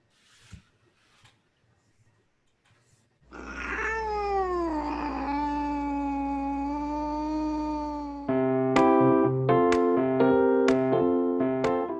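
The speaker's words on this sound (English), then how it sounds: "This is my cat Calvin, and he has issues." A house cat lets out one long, drawn-out yowling meow that wavers in pitch over several seconds, then musical notes take over.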